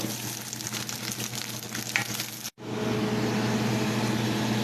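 Onions with ginger-garlic paste browning in a hot pan, a dense continuous sizzle interrupted by a brief gap partway through, close and fairly loud with no voices.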